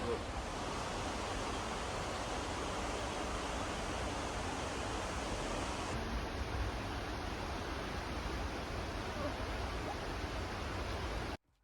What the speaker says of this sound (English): we are met with another magnificent waterfall